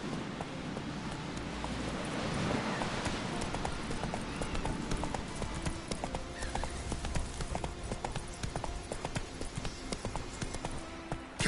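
Roach, a horse in The Witcher 3, gallops in a quick, steady run of hoof clip-clops that stays close and clear for the whole stretch, over a soft outdoor wash.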